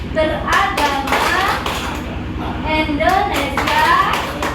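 A group performs a rhythmic chant-and-clap routine at a village religious-harmony gathering, bursts of hand claps in patterned beats mixed with loud unison voices, close and lively, people chanting throughout.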